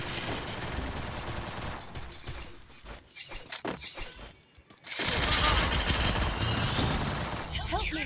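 Rapid bursts of gunfire from a shooting video game fire loud and dense, ease into scattered shots for a moment, then return as sustained heavy firing while a player talks over the action.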